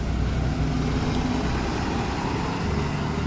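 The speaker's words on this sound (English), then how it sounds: "School bus." A school bus rumbles past, a broad steady roar of engine and road noise that stays loud and near throughout with no voices.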